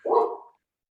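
A single short dog bark sounds close and clear, then cuts off into silence.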